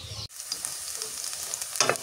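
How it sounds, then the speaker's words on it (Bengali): Onions and chilies sizzling and frying in hot oil in a pan, a steady crackling hiss with a brief stir-like pause, close by and without talk. "পেঁয়াজ মরিচ তেলে ভাজছিলাম"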